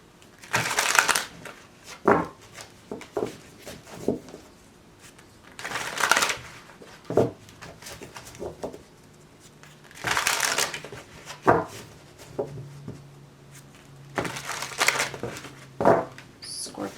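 Tarot cards are shuffled in several brisk bursts of riffling and rustling, close by, separated by quieter pauses with light handling sounds.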